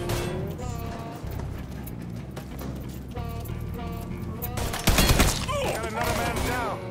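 Gunfire from the Mafia III video game: a dense rattle of shots and a loud burst under shouted voices and tense game music, continuing steadily throughout.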